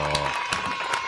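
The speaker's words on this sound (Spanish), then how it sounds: "Fuerte el aplauso." Studio audience applause on a live morning TV show: a short burst of broad, crackling clapping that fills the whole moment, with a voice briefly audible at the start.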